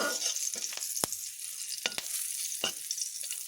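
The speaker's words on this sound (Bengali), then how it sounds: "এবার একটু কাঁচা লঙ্কা ও জিরে এগুলো একটু ভাজা হতেই একটি সুন্দর ফ্লেভার বেরোবে" Cumin seeds and green chillies frying in oil for a ridge gourd dish, a steady bright sizzle close by, punctuated by a few sharp pops and clicks.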